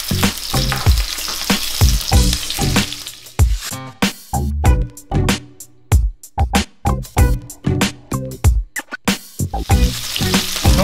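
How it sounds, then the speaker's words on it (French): Scallops sear in a hot frying pan after being flipped, a loud, close sizzle that surges and fades in repeated bursts with crackling spatter, and no voices. "Une fois que les Saint-Jacques sont bien colorés d'un côté, on les retourne."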